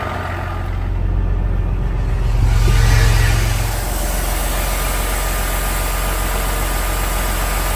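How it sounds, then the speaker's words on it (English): A heavy Detroit diesel truck engine rumbles steadily in cold, snowy weather, swelling louder for a couple of seconds as the exhaust brake engages before settling back to a constant low idle drone. "I want to hit that exhaust brake again"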